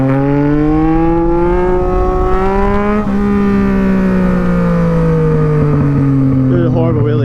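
Motorcycle engine revving hard and steadily through a wheelie with ABS off and lift control on, a loud sustained drone rising and falling in pitch for several seconds, close and continuous.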